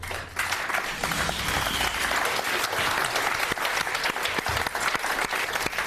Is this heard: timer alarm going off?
no